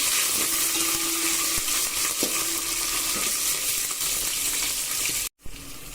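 Garlic cloves and slit green chillies fry in hot oil with a continuous loud sizzle, stirred with a few scraping clinks, before a brief dropout near the end.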